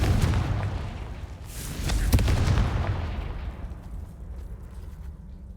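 A fiery blast spell cast in the video game Hogwarts Legacy bursts out as a loud, booming explosion that rolls into a rumbling decay, followed by a lingering low ambient hum.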